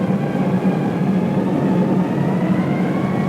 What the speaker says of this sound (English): Worried Germans heard the first wave drone overhead.